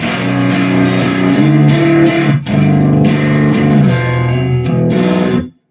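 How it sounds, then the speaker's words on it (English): A heavily compressed, effects-processed tone plays continuously with a slight distorted edge, sustained notes changing every second or so with brief plucked attacks, loud and upfront before cutting off abruptly. "It's more compression than distortion."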